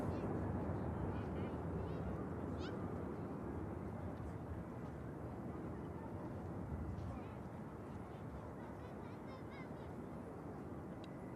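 An aircraft departing Manchester Airport gives a broad, rumbling jet roar, loudest at first and slowly easing as it climbs away, with faint talk in the background.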